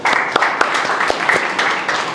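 An audience at a talk gives a burst of steady applause, with many hands clapping close together at an even loudness throughout.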